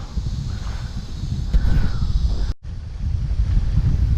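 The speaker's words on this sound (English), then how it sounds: "It's gonna be pretty windy, but it shouldn't be too bad." Steady wind buffets the microphone on the Mississippi River with a low rumbling roar, briefly cutting out for a moment before continuing.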